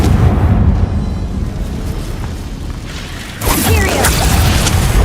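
A Confringo spell blast from the Hogwarts Legacy video game bursts in as a loud, booming explosion with crackling debris near the end, over a dense, continuous game soundscape with voices.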